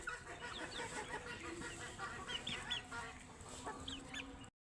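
A native farm chicken being handled for vaccination clucks softly, with several short clucks and chirpy calls from nearby poultry over a quiet background.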